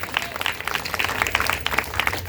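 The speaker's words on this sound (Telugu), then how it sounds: "చప్పట్లు కొడదాం ఒకసారి గట్టిగా." Loud, sustained applause from a church congregation at an anniversary service, dense rapid clapping filling the space for a couple of seconds with no voices over it.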